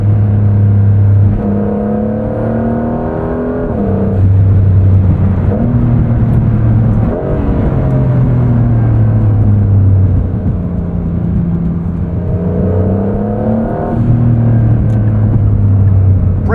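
2025 Porsche 911 GTS (992.2) engine pulls through the upper gears in a steady, moderately loud interior drone, its pitch rising and dropping with each shift and climb, without speech.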